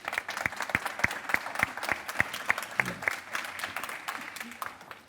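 An audience applauding at a tech conference breakout session, a rhythmic run of moderately close hand claps that thins out and fades toward the end, with a brief voice partway through.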